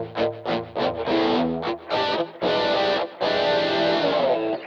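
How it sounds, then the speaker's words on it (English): An electric guitar through an MXR Rockman X100 pedal on its edge distortion setting plays a run of choppy, mid-heavy chords and notes, loud and close, with brief gaps between phrases. "So then the edge setting kicks in the distortion."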